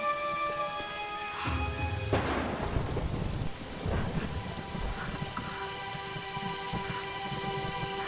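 Thunder rolls through steady rain in a Tomb Raider video game, with low rumbles swelling and fading over a constant patter and a soft sustained musical tone.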